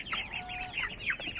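Hungry chicks and chickens cluck and cheep noisily at close range, a dense overlapping chorus of clucks and high peeps with no talking.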